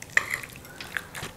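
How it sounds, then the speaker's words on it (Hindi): Marinated chicken pieces mixed with black pepper in a bowl for chicken chilli, giving soft, sporadic clinks and wet stirring scrapes, faint and close. "इसको मिक्स करते हैं"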